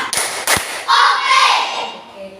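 A classroom of schoolchildren claps in unison, two sharp group claps close together, followed by a burst of children's voices calling out.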